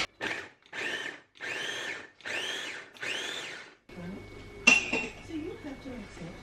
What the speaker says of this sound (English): And then just blend it up